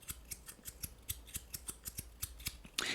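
Zirconium Choclick fidget toy sliding back and forth, producing a quiet, rapid series of soft metallic clicks and ticks, close and faint, ending in a brief louder scrape.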